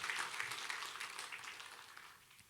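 Clapping from a church congregation at a worship service, soft and distant, a diffuse patter that slowly fades toward the end.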